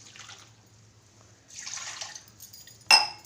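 Water is poured from a glass into a mixer jar while making coconut milk. Brief, quiet splashing pours arrive in a few separate spurts, ending with a sharp glassy clink, with no talking.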